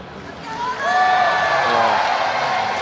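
Crowd at the Arnold Strongman Classic swelling into loud cheering and whooping, building up within the first second and staying strong and steady.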